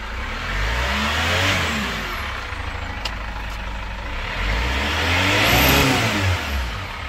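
A Chevrolet Captiva FL AWD diesel that starts hard, pulls heavily and smokes is revved up twice, close by. The engine note swells and falls with a rough, steady idle between the revs.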